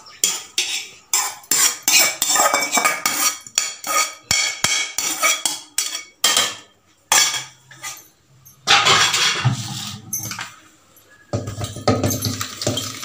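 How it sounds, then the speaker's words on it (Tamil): Mashed potato and onion masala mixed by hand in a bowl: rhythmic squelching and slapping strokes, close and clear, in repeated bursts with short pauses. "நல்லா பிரட்டி வச்சுக்கலாம் எல்லாத்தையும்."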